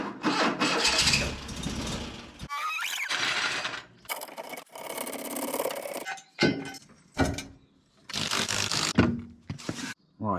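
A Mk1 Ford Escort with a troublesome scrap engine cranks and starts, then runs in uneven bursts with revving, pauses and a door clunk as it is driven into a garage, loud and close.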